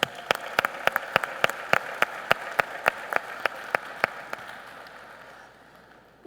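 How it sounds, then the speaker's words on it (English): Applause for proficiency winners at a chapter session, with distinct close claps in a brisk steady rhythm over a softer crowd wash, fading out near the end. "Let's give one more round of applause to our proficiency winners."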